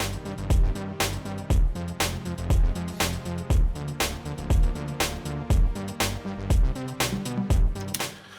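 Four-bar electronic loop from a Cubase project: synth track with punchy bass drum, snare, hi-hats and an arpeggiated bass line, repeating in a steady driving groove, loud and full.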